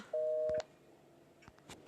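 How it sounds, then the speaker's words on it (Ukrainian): A single short electronic phone tone sounds once, faint and steady, over low background hiss, followed by a few soft clicks. "Ну чекай, буся дзвонить"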